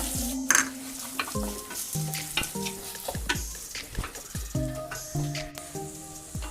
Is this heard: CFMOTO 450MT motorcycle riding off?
no